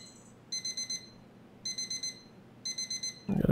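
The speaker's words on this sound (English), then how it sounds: "Oh, I actually turned off the alarm." An alarm clock rings in the video game The Final Station, three separate bursts of rapid, bright, evenly pulsed beeps with short pauses between, then cut off by a loud thump.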